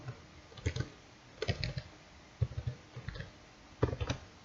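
Typing a username and password on a computer keyboard, short clusters of close key clicks separated by brief pauses, fairly quiet over faint background hiss.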